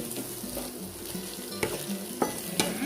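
Food frying in a pan with carrots, chilies and enoki mushrooms, stirred with a utensil: a steady soft sizzle broken by several sharp scraping clinks, close by and without talk.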